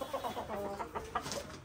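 Crested desi hens clucking in a backyard farm, a rapid series of close, overlapping clucks with no talk.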